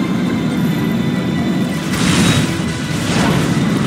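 Heavy bombing-run explosions from the Command & Conquer 3: Tiberium Wars real-time strategy game, a loud sustained rumbling roar with a second swell of blasts midway, no talk.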